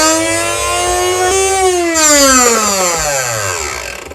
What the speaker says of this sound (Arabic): تعالوا كده نسمع صوت المطحنة.